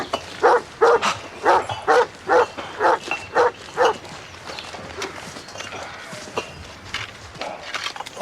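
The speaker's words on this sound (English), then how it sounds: "The dog doesn't look as though it's been fed today." A hungry-looking dog in a Doctor Who scene barks in a quick series of about ten loud, evenly spaced woofs, then falls quiet, with footsteps and faint background noise continuing afterward.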